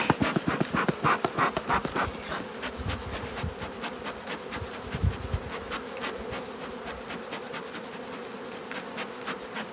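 Honeybees buzz densely around an open hive during late-summer frame work, a steady close swarm drone with individual bees zipping past the mic.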